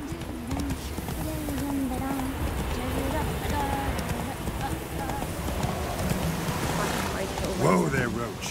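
In The Witcher 3 video game, a horse runs through rain, its hooves beating a steady clip-clop over a constant patter of rainfall, while someone talks over it.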